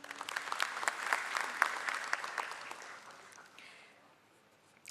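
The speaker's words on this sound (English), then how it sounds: "A round of applause for Sri Rajiv Agarwal." Seminar audience applauding after a speaker at an event on stock broking taxation issues, a moderately faint burst of indoor clapping that swells briefly and then tapers off toward silence.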